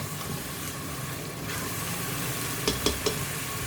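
Spices and ingredients for mutton kalaji masala sizzle steadily in a pan while being sautéed, a continuous close fry with a few sharp scraping stirs near the end.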